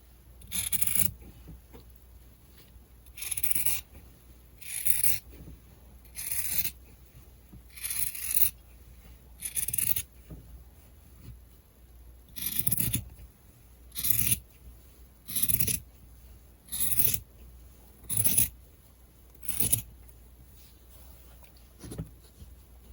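Scissors snip through fabric for a neck-warmer face mask in a steady run of about fifteen crisp, close cuts spaced roughly a second or two apart, each a short sharp rasp against a quiet background.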